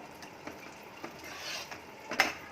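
A spoon stirs kadhi with pakoras in a pot, producing soft, faint scraping and gentle taps at irregular intervals, with a quiet simmering background and one slightly sharper clink near the end.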